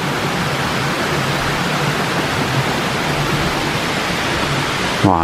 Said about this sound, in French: c'est pas la méga cascade, hein, mais bon, c'est pas bien grave.